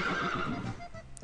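Horses whinnying in a zombie survival video game, a drawn-out, fairly quiet neigh with a faint clip-clop of hooves at the end.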